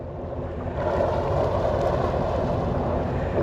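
A personal watercraft jet ski engine throttles on the water near a launch, a close, steady low rumble that swells slightly after the first second and holds with wind and water noise around it.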